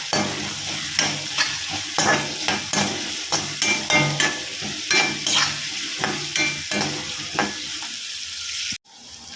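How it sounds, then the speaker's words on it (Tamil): Onions frying with salt in a pan for a pinched-chilli sambar, stirred in a brisk, regular rhythm of scrapes over a constant close sizzle, ending in a sudden cut. "உப்பு சேர்த்து நல்லா நம்ம வதக்கி விட்டுக்கலாம்"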